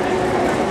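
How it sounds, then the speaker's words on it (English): A train pulling out of a station in Tokyo gives a steady, loud rumbling hum with faint rhythmic rattling, continuous through the brief moment. "There's another train taking off."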